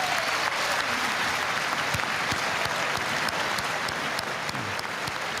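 An audience at the 2023 State of the Union address breaks into loud, sustained applause, a dense wash of clapping hands filling a large chamber.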